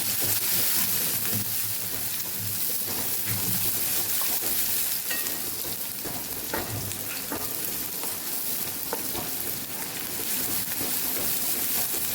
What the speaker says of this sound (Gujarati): અહીંયા આપણે ડુંગળી ઉમેરી દઈશું ડુંગળી એકદમ કાચ જેવી થાય ત્યાં સુધી આપણે એને સાતડવાની છે